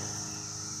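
Cicadas in Maryland produce a steady, continuous insect drone that fills the short span at an even level, with no voices present.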